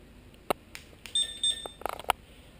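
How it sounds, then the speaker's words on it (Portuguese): A Honda CBF 125 motorcycle's aftermarket alarm gives short electronic beeps and a brief steady high tone, mixed with a few sharp clicks, close and moderately loud with no talking. "Como vê, o alarme funciona."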